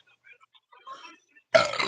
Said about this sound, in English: Excuse me, mea culpa for the burps.